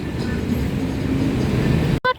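Train passing near a Bangkok bus ride, a continuous loud low rumble with rail rattle that holds steady before cutting off abruptly near the end, followed by a brief voice.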